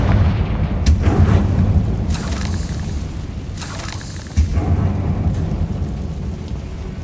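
A Confringo spell explosion in the video game Hogwarts Legacy sounds as a deep, rumbling boom that rolls on for several seconds. A second heavy blast cuts in midway, and crackling bursts sit over the low roar.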